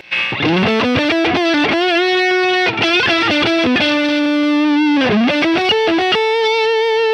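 Electric guitar with neck and middle pickups wired in series, played with a thick, warm tone and light overdrive, a sequence of picked notes and chords ringing out steadily with no voices.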